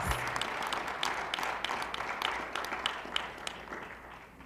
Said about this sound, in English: let's give the mayor and all of our awardees, both past and present, a round of applause.